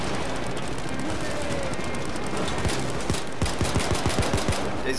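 Rapid automatic gunfire during a Payday heist shootout, bursts of sharp shots growing denser and louder toward the end over a constant noisy game background, with people talking.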